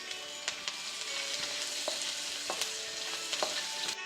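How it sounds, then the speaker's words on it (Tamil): Onions sauté with curry leaves and salt in a kadai, a steady close sizzle of hot oil broken by scraping stirs and occasional sharper taps of the spatula against the pan. "கொஞ்சம் கருவேப்பிலை போட்டு நல்லா வதக்கிக்கோங்க. உப்பு போட்டு வதக்கிக்கோங்க. அப்போ தான் சீக்கிரம் வெங்காயம் வேகும்."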